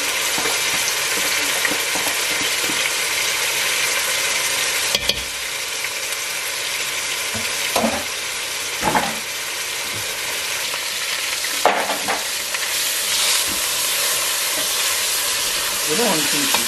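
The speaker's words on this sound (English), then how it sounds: "And I will also add some tomato puree." Tomato puree goes into a hot pot of frying Congolese food and is stirred, giving a steady loud sizzle with occasional scraping stir sounds throughout.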